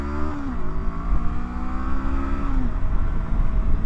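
A Honda NX500 adventure motorcycle ridden hard, engine climbing through the revs, easing back, then pulling again, loud and close with wind roar throughout.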